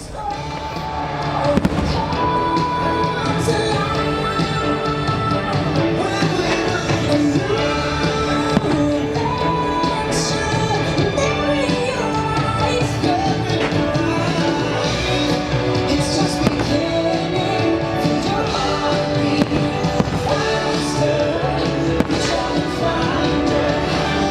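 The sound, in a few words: fireworks show at Disney World's Magic Kingdom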